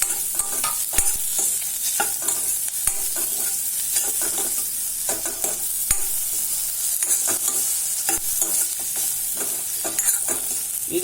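Capsicum and tomato sizzling in a pan while being stirred, a bright constant hiss punctuated by frequent quick scrapes and taps of the spoon, near and steady, with no speech.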